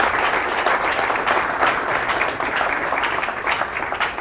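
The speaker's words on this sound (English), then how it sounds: "you can give a round of applause to Papaya and each of these startups" Applause from a startup demo day audience, steady and dense for the full four seconds, fairly loud with no talking over it.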